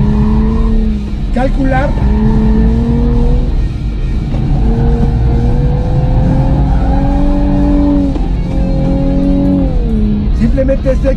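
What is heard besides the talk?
new Nissan Z twin-turbo engine accelerating while driving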